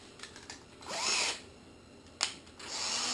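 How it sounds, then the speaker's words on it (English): A cordless drill bores through gel coat in two short bursts, its whine rising as the motor spins up, close and fairly quiet, separated by brief pauses. "I like to use a cordless drill because cordless drills feature one thing, is the ability to run it in reverse or forward."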